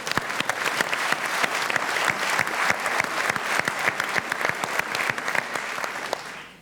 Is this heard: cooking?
no